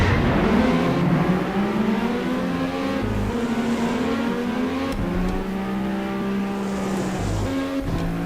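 Racing car engines in the online video game TrackRacing Online drone steadily and loudly throughout, with rising and falling revs as the cars accelerate and shift, plus brief gear-change dips.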